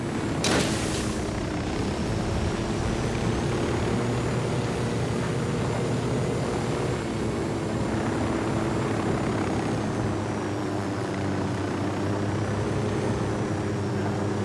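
A helicopter's loud, steady rotor and engine drone in the video game Ghost Recon Wildlands fills the scene continuously, close by, after a brief sharp knock at the start.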